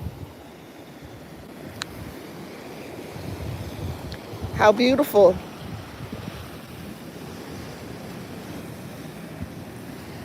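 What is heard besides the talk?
ocean waves on the shore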